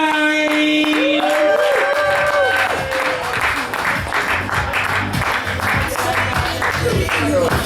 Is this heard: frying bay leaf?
no